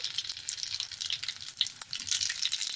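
Mustard seeds and cumin sizzle in very hot oil for a tempering, a dense, bright crackle and hiss with scattered popping seeds, close and continuous throughout.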